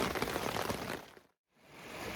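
Rain falls hard during a thunderstorm in the Grand Canyon, a dense close patter that fades to a brief near-silence before returning at a softer level.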